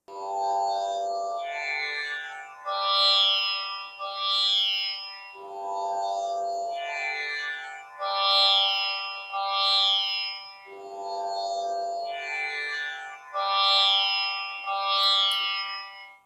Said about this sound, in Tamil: இப்ப நான் தம்புராய்டு அப்படிங்கிற ஸ்ருதி ஆப்ல ஸ்பீட் அப்படிங்கிற ஆப்ஷனை நல்லா கொஞ்சம் குறைச்சு வச்சு